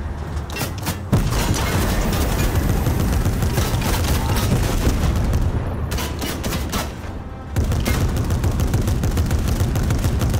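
Sustained machine gun fire from a mounted gun in Fortnite, loud and continuous with dense rapid bursts, briefly easing once before resuming at full intensity.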